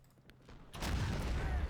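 Musket and cannon fire in the Napoleonic Wars line-battle game Heroes of the Napoleonic Wars erupts suddenly after a quiet lead-in, a dense rolling roar of overlapping shots that stays loud to the end.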